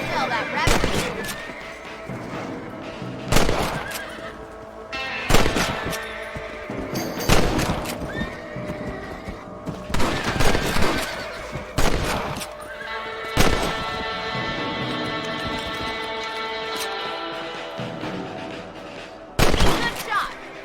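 Repeated gunshots ring out while hunting rabbits in the Red Dead Redemption video game, sharp loud cracks spaced a few seconds apart over horse neighs, hoofbeats and a steady game soundscape.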